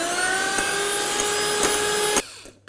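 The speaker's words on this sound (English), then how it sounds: "Then I'm just going to continue to whisk until they become silky." A steady, loud electric mixer whines as it whisks egg whites with caster sugar for a berry pavlova, humming evenly before cutting off abruptly near the end.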